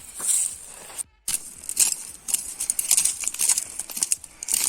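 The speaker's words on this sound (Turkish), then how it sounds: "Şu an arkadaşlar evimizin zeminini süpüreceğiz." A branch broom sweeps the floor of a makeshift outdoor shelter in the wild, giving close, scratchy rustling strokes in an irregular rhythm with one brief pause.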